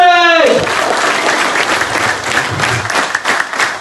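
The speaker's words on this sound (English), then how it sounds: "Let's give a big round of applause to" An audience at a hotel seminar in Nairobi bursts into loud, dense applause after a voice cuts off, and the clapping continues steadily to the end.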